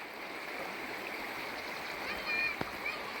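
A hill stream flows steadily down toward the Periyar river and Idukki dam, a continuous close rush of water with a brief splash near the end.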